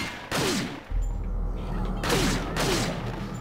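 Gunshots from the video game Resident Evil 4 Remastered: three sharp, loud bursts of gunfire with ringing tails, spaced unevenly, over a low steady game rumble.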